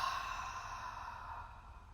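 A long, deep breath pushed out through the mouth during an abdominal exercise for chronic back pain, a steady, soft airy whoosh that holds for about two seconds, with no talk over it.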